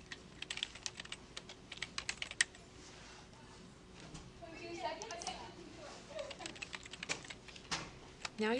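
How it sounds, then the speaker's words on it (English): Rapid, uneven clicking of a computer keyboard as citations are typed, near and crisp, with pauses between bursts of keystrokes and a faint steady hum beneath. "Once in here, we can type in our citations."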